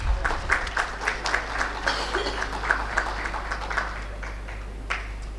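Scattered audience clapping at a railway industry expo awards session, as tokens of gratitude are presented to guests; a thin, sparse round of individual claps over a steady low hum in a large hall.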